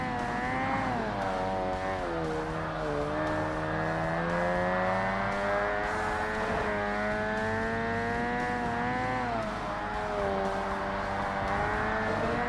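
Race cars drifting in the video game Forza Motorsport on Xbox, a rotary-engine amateur challenge: engines hold a continuous loud whine that rises and falls with gear changes and revs, with tire noise beneath and several cars close together.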